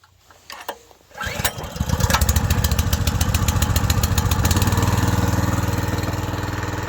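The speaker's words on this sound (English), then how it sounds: "Just got to slow it right down to an idle because we can just leave her pumping that way" A small petrol engine on a water pump pulls into life after a couple of soft tugs, then settles into a loud, steady running drone that holds without a break, with no talking.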